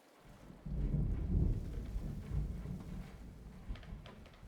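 Rain pouring with a rumble of thunder in a murder-mystery video game: a deep roll of thunder builds and fades over steady rain, close and moderately loud, with no talking.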